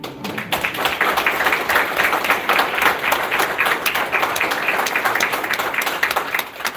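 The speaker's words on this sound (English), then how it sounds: "So if we could please have a round of applause for Mr. McConnell." An audience at a Floresville ISD school district meeting applauds Mr. McConnell, a music educator, with loud, dense clapping from many people that holds steady throughout.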